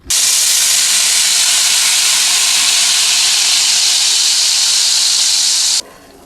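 Blended tomatoes, 1.5 kilos, hit hot oil in a kadai and erupt into a loud, sustained hissing sizzle that starts abruptly, holds steady for several seconds, then drops off sharply.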